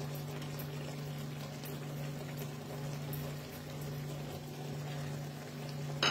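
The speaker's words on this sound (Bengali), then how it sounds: "এবার আমি এটার মধ্যে ডিমটা দিয়ে দেবো।" Beaten egg tipped into a pan of simmering liquid for a green banana kofta curry, a steady bubbling boil with a low persistent hum and soft liquid churning throughout, no voices.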